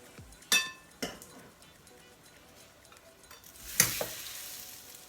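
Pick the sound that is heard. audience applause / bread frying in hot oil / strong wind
bread frying in hot oil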